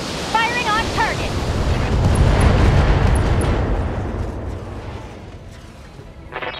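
Weapons fire from a mech in the video game BattleTech, a heavy rumbling blast that swells and rolls on for several seconds before fading, with brief chirping tones at the start.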